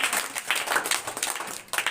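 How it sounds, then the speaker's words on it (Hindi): Applause for students at a prize distribution at Jharkhand Public Residential School, Karudih: a crowd clapping steadily and fairly close, with rhythmic swells of claps lasting throughout. "चलिए एक बार जोरदार ताली इनको मार दीजिए।"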